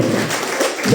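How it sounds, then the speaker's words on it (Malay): Applause for a speaker at a seminar, a brief, dense patter of many hands clapping together, fairly loud and continuous for about a second. "Beri tepukan kepada yang ditanggung."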